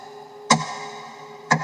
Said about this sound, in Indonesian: samar-samar Tina mendengar suara jam dinding.